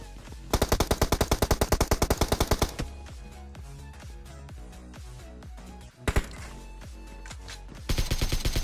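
Rapid automatic gunfire from a PUBG (BGMI) battle, loud bursts of tightly spaced shots opening the scene, then scattered single and double reports over a dense game background, ending with another fast burst.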